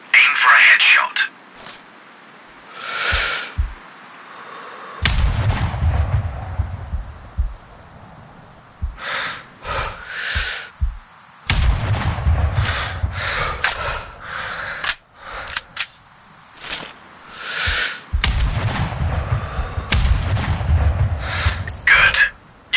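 Sniper rifle shots ring out in the video game Sniper Ghost Warrior Contracts, three sharp heavy blasts spaced several seconds apart, each one loud and close with a rumbling tail, and spoken instructions run between the shots.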